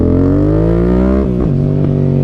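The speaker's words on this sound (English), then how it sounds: "they just rode one with an exhaust on here with this awesome sound" A Yamaha MT-07 motorcycle with an aftermarket exhaust revving up, a loud, close, rising engine note that peaks and then drops back to a steady rumble.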